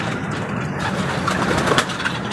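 Pigeons coo softly in a steady low murmur against a faint outdoor background, with no one talking.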